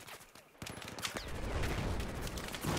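Rapid bursts of gunfire and explosions from a Battlefield 4 multiplayer match, dense and loud with overlapping shots through most of the stretch, with a voice faintly mixed in.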